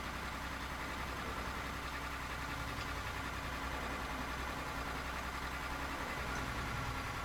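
A Caterpillar-engined truck in Euro Truck Simulator 2 idles and drones steadily, a continuous low mechanical hum that stays even and close from start to finish with no talk over it.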